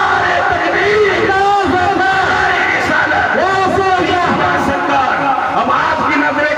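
A large crowd at a religious gathering shouts the takbir slogan together in loud, continuous, overlapping voices that rise and fall in waves.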